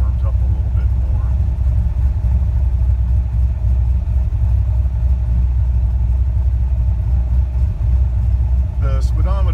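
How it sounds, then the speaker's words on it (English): A 600 hp engine fitted with a Holley Sniper idles in a driveway after a cold start, a loud, steady, close rumble. "Since we're just idling in the driveway, there's no speed indicated."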